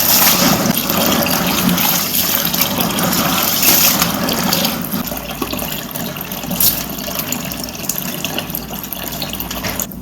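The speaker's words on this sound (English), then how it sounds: "Yes, you need to wash it because of sand." Grain for homemade pap is washed in water to remove sand, a loud close sloshing and gushing of water swirling and pouring, steady throughout and slightly calmer in the second half.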